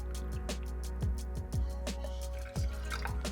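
Cold brew tea poured over ice for a non-alcoholic cocktail, close and clear, with gurgling liquid and a string of distinct clinks and drips as the pour settles.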